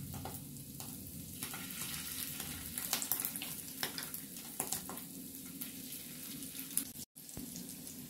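Small pieces fry in a generous amount of hot oil in a kadai, a close, continuous crackling sizzle with scattered sharper pops and stirring clatter, briefly cut off near the end.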